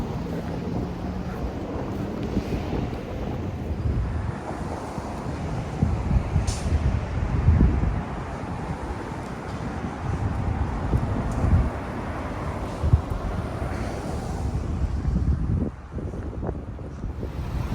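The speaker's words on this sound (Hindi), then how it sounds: "और अब रात को इतनी तेज़ हवा चल रही है, बर्फीली हवा चल रही है।" Strong, icy night wind in Jersey City buffets the microphone in continuous rumbling gusts, loud and close, with a few brief thumps and no speech.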